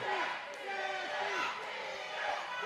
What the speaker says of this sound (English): Listen to the crowd now getting behind this match